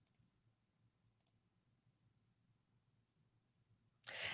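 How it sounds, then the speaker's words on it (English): Soft keyboard typing clicks faintly in a quiet room, a light steady patter under low background hum, ending in a sudden louder burst. "What are you typing?"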